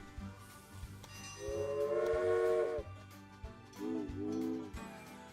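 Steam train whistle in the Railway Empire game, sounding in two sustained tonal blasts, a long one then a shorter one, over a steady rumbling, chuffing rail background.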